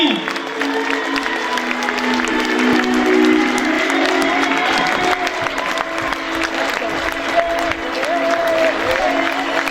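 An audience at a municipal election campaign meeting applauds to welcome a candidate, with sustained loud clapping and some cheering over several seconds and a tonal hum from the hall underneath.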